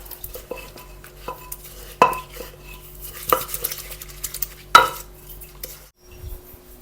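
Utensil stirring sugar into fish sauce and lime for green papaya salad, with several sharp clinks against the bowl amid steady scraping, close and fairly loud, no talk.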